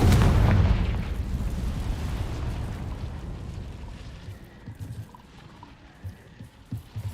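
A Confringo fire spell explodes in Hogwarts Legacy, opening with a loud, deep boom that rumbles and slowly decays into a fading crackle, with a few faint thuds near the end.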